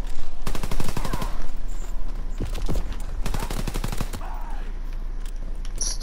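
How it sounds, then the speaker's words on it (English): Rapid bursts of gunfire from Call of Duty WWII Zombies come in two dense volleys with a sharper shot between them, mid-distance and fairly loud over steady game ambience. "Shots."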